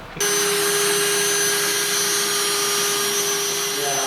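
Power drill boring holes into a Toyota Tacoma roof, a loud steady high-pitched whir that starts abruptly and holds constant, close by with no talk.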